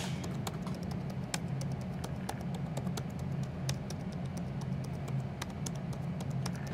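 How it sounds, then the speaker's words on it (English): Rapid, steady keystrokes on the keyboard of a new 2018 MacBook Pro, a dense patter of light clicks running continuously at close range with no talking. "So now this is the new keyboard."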